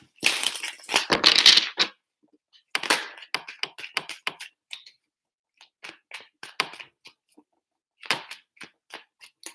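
Tarot cards being shuffled up close: a couple of crackling riffle bursts, then a string of light, scattered taps and flicks.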